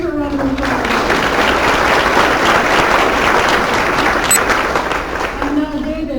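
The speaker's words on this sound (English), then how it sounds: "Let's give Jennifer a round of applause." Workshop audience giving a round of applause for a participant named Jennifer, a dense, even wash of many hands clapping throughout, with a voice briefly audible at the start and end.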